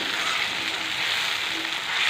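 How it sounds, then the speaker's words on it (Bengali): Spice paste for a vegetarian paneer curry sizzling as it is sautéed in hot oil in a pan, a steady close hiss of frying that holds without pause and stands alone. "আমি আরও কিছুক্ষণ কষবো"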